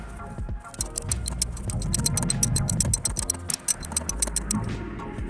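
A ratchet with a 12mm socket works loose the nuts on a 2015 Mazda5 rear shock mount, with a rapid run of close clicking ticks over low garage rumble and brief thumps.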